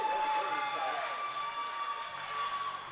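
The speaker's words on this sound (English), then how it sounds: "Crowd going crazy for East Skate Artist." A roller derby crowd cheers and claps at a junior doubleheader, a dense, steady wash of noise throughout, with a faint tone holding underneath.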